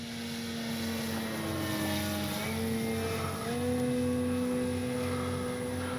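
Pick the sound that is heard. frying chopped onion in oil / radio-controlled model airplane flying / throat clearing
radio-controlled model airplane flying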